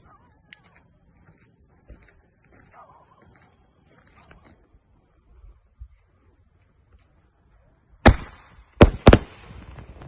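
A triple-shot "3 step" fancy firecracker goes off outdoors, three sharp loud bangs in quick succession near the end after a quiet stretch of faint ambient sounds and insect chirps.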